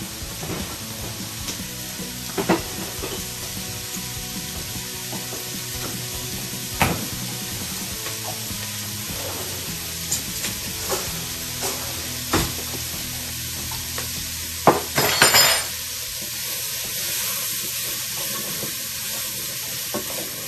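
Onions and small potatoes fry in a single pan as the base for braised lamb shanks, a steady low sizzle running throughout with occasional louder clacks and a brief burst of spitting near the end.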